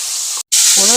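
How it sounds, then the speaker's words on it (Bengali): Paneer fries in hot mustard oil with a loud, close hissing sizzle. The sizzle drops out for an instant, then surges back, with a faint tonal sound near the end. "তেল গরম হয়ে গেছে, এখন আমি পনিরগুলোকে ভেজে নেব।"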